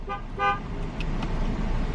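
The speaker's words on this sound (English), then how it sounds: "And he's honking at her." Two short car horn toots in quick succession, somewhat distant, over a low rumble of traffic and engine noise.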